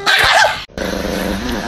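A dog gives a short, loud bark and then a low, rumbling growl at close range, with the two separated by a brief silence.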